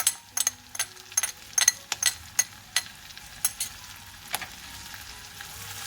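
Chopped parsley sizzling in a hot pan over low heat while being stirred, a steady frying hiss broken by a string of sharp scraping clicks from the stirring utensil, close and fairly quiet.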